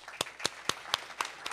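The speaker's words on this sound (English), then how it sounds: "You guys are following my applause cues very well" An audience at a faculty presentation claps in a slow, evenly spaced rhythm, with six crisp, distinct claps in under two seconds that sound like only a few hands and come over a quiet room.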